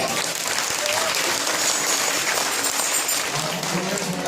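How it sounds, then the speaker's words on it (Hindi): A crowd at a Nirankari children's Bal Sant Samagam in Colaba gives loud, dense applause for the children after their action song, continuous clapping filling the hall throughout. "एक बार जोरदार तालियां हो जाए"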